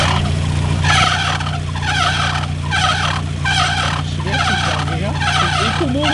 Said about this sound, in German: Kannst du mal gegen das Quietschen da tun?